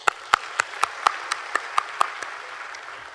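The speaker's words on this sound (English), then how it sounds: "Let's clap for her." Graduation ceremony audience applauds, a sparse run of about ten distinct, fairly loud claps spaced evenly, then fading into softer scattered clapping.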